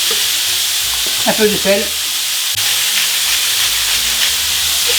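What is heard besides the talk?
minced meat frying in a hot pan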